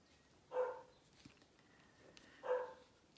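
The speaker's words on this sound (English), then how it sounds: "now Monty's at the window barking at probably a bird" A dog at a window barks twice, two short separated woofs about two seconds apart, moderately close over a quiet room.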